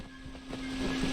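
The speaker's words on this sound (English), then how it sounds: "Ah, a waterfall." A waterfall in the video game Kingdoms of Amalur Re-Reckoning gives a steady, soft rushing wash of water with a faint tonal hum underneath, continuous and slightly building over the short stretch.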